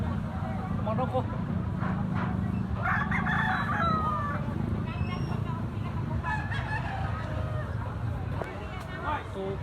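A Kelso bloodline rooster crows repeatedly at close range, its strained calls rising over a constant low rumble and background chatter from people nearby.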